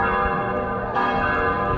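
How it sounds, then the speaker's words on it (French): Church bells ring out on the island of Ischia as a religious procession passes through the streets, a loud, close metallic peal with sustained ringing overtones and a fresh strike midway. "chaque église va sonner les cloches à chaque fois qu'elle passe devant"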